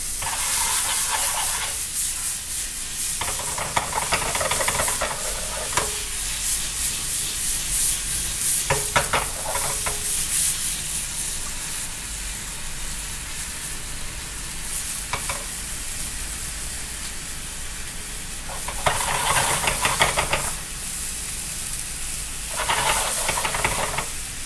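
A roll of A5 wagyu and Hokkaido scallop sizzles steadily in garlic butter, a loud continuous frying hiss with periodic scraping stirs and bursts of spatter, close and without talking.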